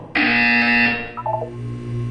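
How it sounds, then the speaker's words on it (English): Loud electronic buzzer from the Portal 2 video game, a harsh sustained tone lasting nearly a second, followed by a few quick descending electronic chirps over a steady low hum, with no talk. "When you hear the buzzer, look down at the floor."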